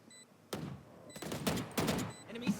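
Rapid bursts of gunfire from a shooter video game fire as a player hits their own teammates, with several dense, loud volleys spread across the moment.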